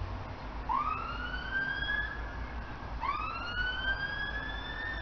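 A siren wails twice, each tone rising and then holding steady, with the second wail starting after a short gap. It sounds moderately distant over low background rumble.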